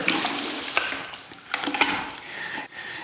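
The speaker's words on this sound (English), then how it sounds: "So I'm just scrubbing it with trisodium phosphate water" A damp mop scrubbing a dirty wall in a Victorian bedroom with trisodium phosphate water, giving close wet swishing strokes with brief knocks and splashy scrapes in uneven bursts.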